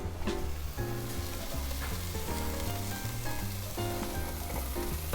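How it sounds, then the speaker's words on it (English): Onions and celery sizzle in a hot pan for a stew, a dense crackling fry that stays loud and close throughout with no voices over it. "let those saute, get them a little bit clear"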